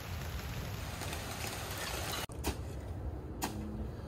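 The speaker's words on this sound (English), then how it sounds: "now it's pouring down rain" Heavy rain pours down steadily outdoors at a driveway paving site, a dense constant hiss broken by a couple of sharp knocks.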